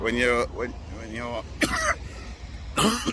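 Several short harsh coughs and throat-clearing bursts break up a man's speech, close to the microphone.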